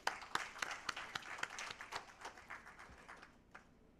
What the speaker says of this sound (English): Let's have a big clap.